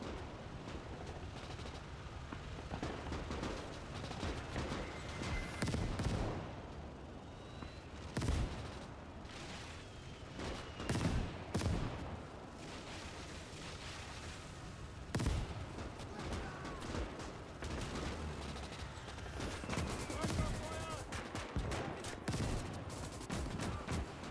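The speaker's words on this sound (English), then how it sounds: "Mortars." Mortar blasts and rapid gunfire fill a winter trench battle in the Gates of Hell video game: a continuous rattle of distant and near shots, punctuated by several heavy explosive thuds, with no speech.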